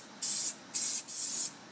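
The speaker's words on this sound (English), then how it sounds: "Give it a light spray of oil." Cooking oil sprayed lightly into a tart case for meat pies, heard as three short close hissing bursts from an aerosol can with brief pauses between them.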